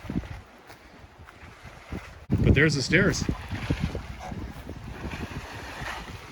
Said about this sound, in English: So you can see it's windy.